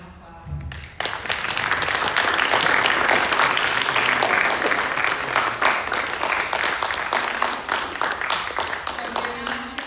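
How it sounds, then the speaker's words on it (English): An audience at a school speech and debate showcase breaks into sustained, loud applause after a brief opening sound, the clapping continuing steadily for most of ten seconds and tapering slightly near the end. "let's give a round of applause"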